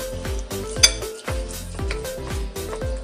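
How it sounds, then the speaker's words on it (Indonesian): Cilok ingredients stirred together in a pan: a quick run of clinks and knocks from a utensil against the metal, roughly five or six strokes in a loose rhythm, close and clear with no talk. "Kita aduk rata."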